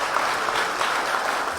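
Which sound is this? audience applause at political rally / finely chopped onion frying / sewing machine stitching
audience applause at political rally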